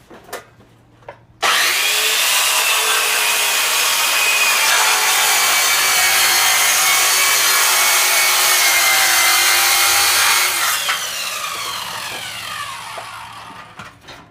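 Evolution Fury 3 circular saw ripping along a wooden board, a loud high-pitched whine and cutting roar that holds steady for about nine seconds before the blade exits and spins down.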